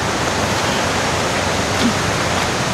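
Sprite Falls produces a steady, loud, broadband roar of rushing water that stays constant throughout, with no voices.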